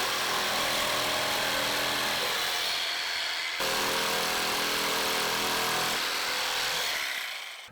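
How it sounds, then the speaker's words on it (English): A router cuts wooden chair parts to final shape along a taped-on template. It makes a loud, continuous high-pitched whine with a brief dip midway, close up, with no talk. "cutting them on my router to their final shape"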